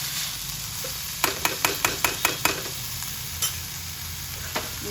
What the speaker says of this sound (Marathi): गॅस जरा बारीक करायचा आणि थोडी परतून झाकण ठेवून टाकायची.